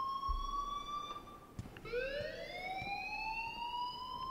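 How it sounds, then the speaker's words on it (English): A video game alarm in Life Is Strange sounds as a steady electronic tone, then shifts to a rising, siren-like multi-tone wail that holds to the end, clear and fairly close, with no one speaking. "please turn off that alarm since that's your job."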